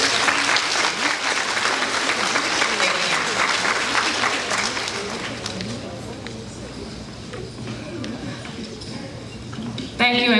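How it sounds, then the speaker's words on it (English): An audience at a completers program applauds the graduates, a loud burst of clapping that gradually thins and fades, with voices and background chatter mixed through it. "Let's give them all a round of applause"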